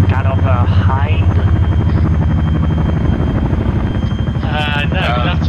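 A CH-53 helicopter in a video game flies close with a loud, steady rotor thump and engine drone, while voices talk over it at the start and end.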